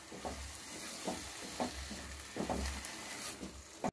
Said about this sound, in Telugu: పప్పును వేసుకున్న తర్వాత ఈ పప్పును 2-3 నిమిషాలు ఇందులో ఫ్రై చేసుకోవాలండి